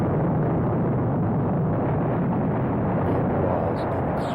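Saturn V rocket engines igniting at launch, a loud, continuous deep rumbling roar that holds steady throughout with dense low-end power and faint crackle near the end.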